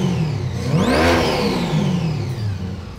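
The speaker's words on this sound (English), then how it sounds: "We're in the dyno cell today with our ProCharge car" A ProCharger-supercharged C8 Corvette engine revving hard in a dyno cell, a loud close rising whine swelling to a peak and then easing back down, with no talk.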